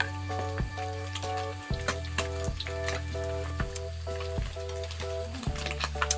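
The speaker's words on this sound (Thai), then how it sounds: "เสียงเจียวมันหมูนี่มันกลบไปหมดเลยนะเนี่ย" Pork fat rendering in a pan in a Thai home kitchen, a steady close sizzle that runs throughout, broken by frequent sharp crackles and pops, with a low steady hum underneath and no voices.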